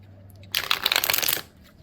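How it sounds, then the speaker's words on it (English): Tarot cards are shuffled in one quick riffling burst lasting about a second, close and crisp, with no talking. "You have to shuffle very, very good"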